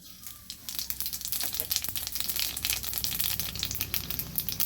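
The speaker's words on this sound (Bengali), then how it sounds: "কড়াইতে সর্ষে তেল দিয়েছি তেলটাও গরম হয়ে গেছে এবার দিয়ে দেব কালো জিরা ফোড়ন" Nigella seeds go into hot mustard oil in a kadai for a pumpkin flower dish, giving a quiet, continuous crackling sizzle with many small pops throughout.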